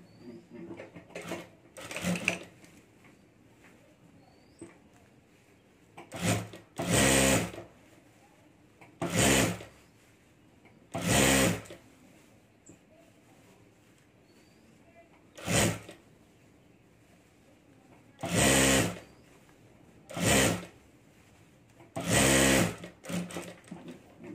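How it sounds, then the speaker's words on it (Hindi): A sewing machine stitches fabric potli bags in repeated short bursts of fast whirring, each a second or two long, separated by quiet pauses with faint handling sounds. "और अब यहाँ हमें सिलाई कर देनी है।"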